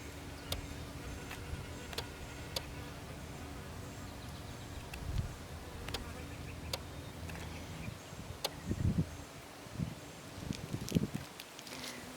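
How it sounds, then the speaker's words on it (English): Bumblebees buzz faintly among crimson clover flowers outdoors, a soft steady hum with scattered brief louder passes and light rustling. "I hear bees."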